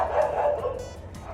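Neighbourhood dogs bark in a few short yips over a low background murmur, moderately close. No speech is heard.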